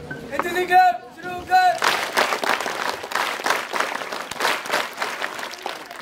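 Audience clapping at a Telugu language day event at a sainik school in Tirupati: after a brief stretch of voice over a loudspeaker, loud, dense applause from a large crowd breaks out and continues steadily.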